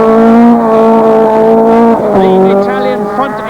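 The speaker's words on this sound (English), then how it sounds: "this the Italian rear engine Lancia Stratov of Finland's Markku Alén" A Lancia Stratos rear-engine rally car races by on a 1979 RAC Rally stage, engine note loud and close, holding a steady high drone then shifting pitch as it changes gear; a commentator talks over it.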